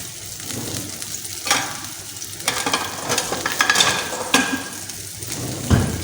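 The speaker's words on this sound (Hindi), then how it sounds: "बस हल्का फ्राई करेंगे इनको।" Goat chops fry lightly in a pan with a steady close sizzle, a few louder bursts and stirring clatter standing out alone with no talking.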